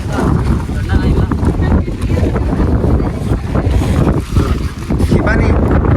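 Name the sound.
strong wind blowing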